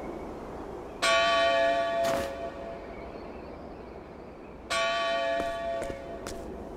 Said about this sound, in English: That's the Bell of Dawn.